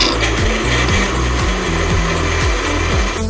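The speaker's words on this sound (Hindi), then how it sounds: "इसे ब्लेंडर कर लेती हूँ" A kitchen blender whirs steadily and loudly while mixing yogurt, gram flour, turmeric and water, a continuous motor drone with rhythmic churning pulses that cuts off abruptly at the end.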